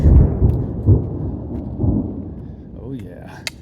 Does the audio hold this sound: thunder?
yes